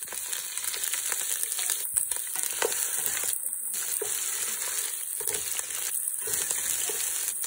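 Onions fry in hot oil for chicken pulao, after bay leaf, cloves, star anise, stone flower, cardamom and pepper went in. A steady close sizzle runs throughout with occasional stirring scrapes, and no talk.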